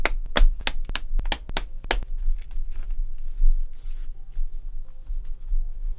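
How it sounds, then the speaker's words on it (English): Plastic backplate clips on an HP Victus 15 laptop being pressed into place, a rapid series of about seven sharp, close snaps in the first two seconds, followed by quiet handling noise. "Press down firmly on all the clips around the side."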